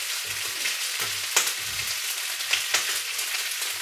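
Chicken rogan josh curry cooking in a pan, a steady close sizzle with soft bubbling and occasional sharper pops as the sauce thickens.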